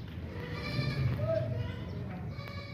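A large, tall pregnant goat, due to give birth within about fifteen days, lets out a short bleat close by, set against steady farmyard background noise.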